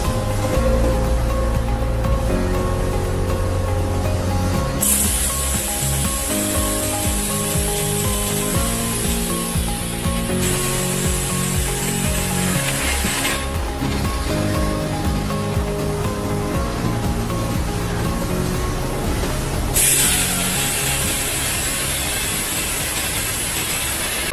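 An XSTM single-side two-station pneumatic heat press chamber running: a loud continuous mechanical drone with tonal hum, broken by bursts of high pneumatic hiss as air releases, no talk.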